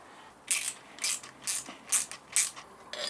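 Ratchet tightening the front wheel axle of a BMW F650GS Dakar: about six evenly spaced, close, crisp clicking bursts, one stroke after another, with no talk over them.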